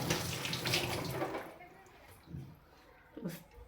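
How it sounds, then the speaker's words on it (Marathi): Beetroot rinsed under a running kitchen tap, a broad splashing water rush for the first second and a half, then quieter drips and brief splashes as the root is handled. "धुवून घेते."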